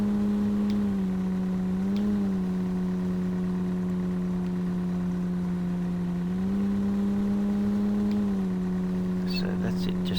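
A vehicle driving across the map in the survival game No One Survived, with a steady droning engine hum that dips and rises in pitch as it shifts, loud and continuous throughout, and a voice talking over it.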